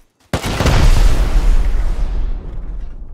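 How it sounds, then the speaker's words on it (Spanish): Rocket striking a turret in Rust: one sharp blast followed by a heavy rumbling boom that decays slowly over a few seconds, loud and close, with no voices. "Métele un cohetazo a la torreta"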